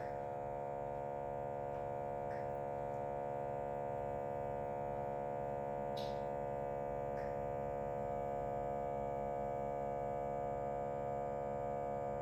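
A steady electrical hum from a vacuum sealer sealing a bag of chicken, even and continuous with no talking.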